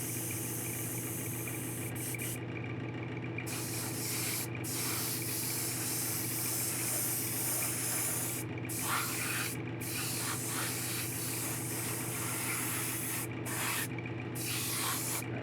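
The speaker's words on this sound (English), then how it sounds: "I have this set for another airbrush" An airbrush sprays paint with a steady, hissing airflow at fairly high pressure, running continuously with brief stops and restarts, faint and close, over a constant low compressor hum.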